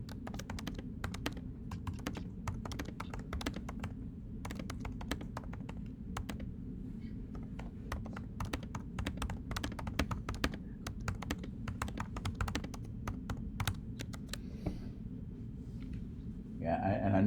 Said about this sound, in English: I can actually type here.